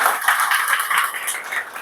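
Loud, dense audience clapping at a motivational talk, a steady wash of many hands applauding together with no voices over it.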